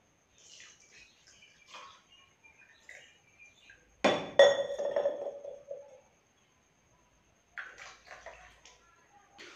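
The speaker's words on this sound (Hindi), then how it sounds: "अब चलिए इसमें जो हम पानी को डालते हैं" Water poured from a container into a glass holding absorbent cotton for a homemade artificial snow demonstration: a sharp glass clink, then about two seconds of close trickling pour, with quiet taps and handling sounds before and after.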